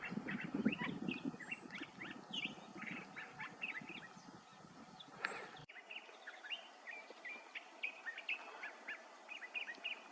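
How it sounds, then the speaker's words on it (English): Sharp, repeated calls of a Gila woodpecker ring out across a quiet outdoor scene in Tucson, Arizona, mixed with other chirping birds at a moderate distance. "you can hear the Gila woodpecker calling in the background here"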